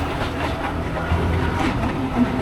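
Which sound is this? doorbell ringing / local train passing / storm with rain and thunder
local train passing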